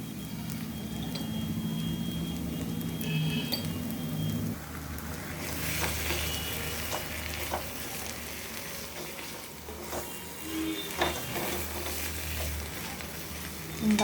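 Cabbage curry sizzles steadily in a pan, with sugar and a little salt added, giving a continuous close frying hiss with occasional stirring clatter and faint voice underneath.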